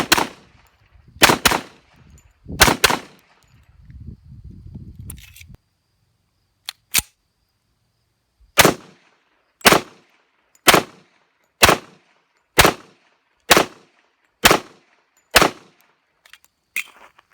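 Canuck 1911 pistol fired in a string of sharp, evenly spaced shots at close range, with a few louder reports and a short pause early on before a steady run of about ten rounds.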